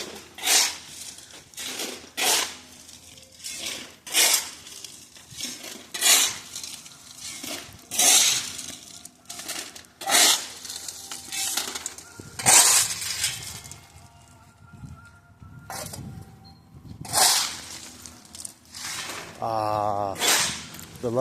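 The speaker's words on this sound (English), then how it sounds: "The lovely sound of shovel ASMR." A shovel scrapes and bites into gravel outdoors, a steady run of sharp, gritty strokes repeating every second or so with brief pauses, fairly close and alone.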